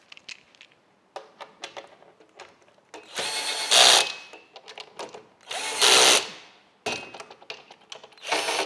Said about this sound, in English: To finish off, we tighten up these bolts.